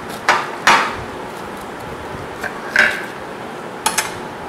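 A knife cutting through food on a board, a handful of sharp, close thunks and taps spaced irregularly apart, with quiet pauses between the strokes.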